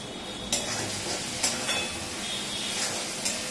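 A sauce mixture sizzles and hisses steadily in a hot wok for egg 65, with a few sharp stirring scrapes cutting through the frying noise.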